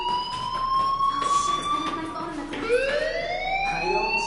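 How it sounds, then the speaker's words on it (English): A fire alarm wails in the video game Life is Strange, a rising and falling electronic siren tone that sweeps upward again partway through, fairly loud and steady, with a voice speaking faintly underneath. "do you hear that fire alarm?"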